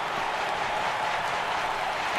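A baseball stadium crowd in MLB The Show 18 cheers and applauds in a dense, steady roar, loud and unbroken throughout, with no distinct voices standing out.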